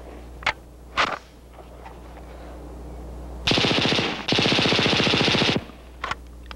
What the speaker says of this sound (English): Perfect functioning, ultra-light weight and long service life characterize the HK-21 machine gun.